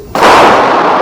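A single pistol shot fired at a range while zeroing, likely a .45 1911-style handgun loaded with FMJ rounds, snapping in sharply and loud with a short ringing tail, no voices.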